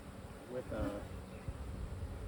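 Honey bees droning around an open hive during an inspection, a steady close buzz with a brief louder swell as a frame or box lid slides into place.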